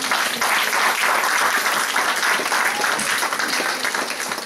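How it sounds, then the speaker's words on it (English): A church congregation claps hands together in a steady burst of applause, a lively, close crowd sound that carries on throughout. "Give God a hand clap, somebody"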